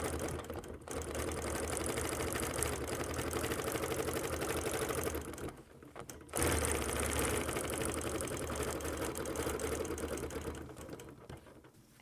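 A sewing machine stitches a quilted spring wall hanging around a handheld ruler, running in a fast steady whirr with two brief pauses, at moderate level and close.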